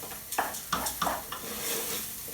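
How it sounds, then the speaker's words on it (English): A spoon scrapes and stirs through mushroom risotto rice in a pan with a soft sizzle, four quick strokes, then a gentler steady stir, close and moderately quiet. "It's about keeping the rice moving all the time."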